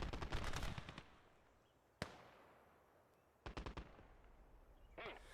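Sparse gunfire in the Gates of Hell: Ostfront war game, a Maxim machine gun among it: a quick rattling burst, a single sharp crack, then another short burst of several rounds, distant and fairly quiet with no voices.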